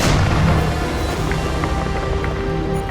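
A fighter ship blowing up in a space-combat game, heard as a loud, sustained rumbling roar of dense low-frequency noise with scattered crackling debris bursts throughout.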